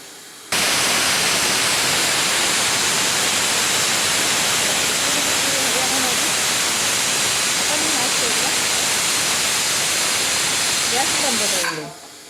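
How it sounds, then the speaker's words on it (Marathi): A home pressure cooker on a gas stove lets off a long, steady hiss of escaping steam, loud and close, starting abruptly and cutting off near the end. "आता आपण इकडे अजून एक शिट्टी काढून घेऊ"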